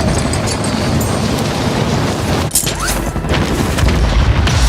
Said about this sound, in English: I just got hit with a mortar while I'm in the air